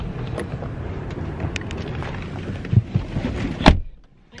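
A car door slams hard once near the end, a sharp close impact after a stretch of low rumbling car interior noise and movement, followed by near silence.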